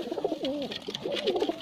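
Soft, rolling coos of a Madrasi pigeon, two warbling phrases with a short pause between, fairly close and calm.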